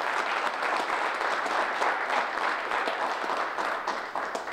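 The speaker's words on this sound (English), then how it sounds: "How about another round of applause for PFC Cruz?" An audience at a Veterans Day ceremony in the City of Lawrence gives a round of applause, dense and sustained clapping from many people that stays strong, then eases slightly near the end.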